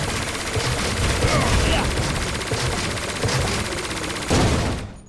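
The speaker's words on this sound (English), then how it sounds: "Having varying lengths of audio layers helped to create a dynamic firing sound each time the gun was fired" Automatic gunfire from a Unity-built video game rattles in rapid, sustained bursts, loud and close, with a heavier blast near the end before it cuts off.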